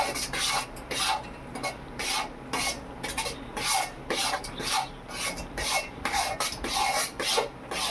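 A spoon works a thick carrot malt mixture around a pan in steady, repeated scraping strokes, close and fairly loud, with a rough rubbing texture and no talking.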